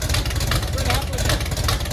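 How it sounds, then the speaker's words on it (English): A 1969 Chevelle engine idles through a full exhaust with no mufflers, giving a steady, loud low-pitched rumble with an even pulsing rhythm close by, while a voice talks over it. "We have a full exhaust and it comes out here."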